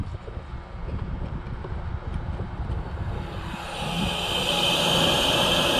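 A small greenhouse inflation blower hums steadily after being plugged in, its airy whoosh growing louder and brighter toward the end, with no voices.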